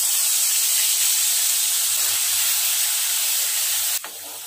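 Ground ginger garlic paste hisses and sizzles steadily in hot oil in a pan while Andhra-style dry fish pickle is cooked, a loud, continuous close frying hiss that drops off abruptly near the end.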